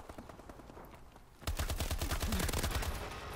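Rapid automatic gunfire in Call of Duty: Advanced Warfare bursts in loud and close after a quieter opening, sustained rattling shots continuing to the end.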